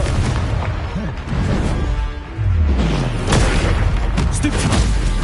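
A Confringo explosive spell in Hogwarts Legacy goes off as a loud, deep blast, followed by rumbling boom-like bursts against dense game background sound.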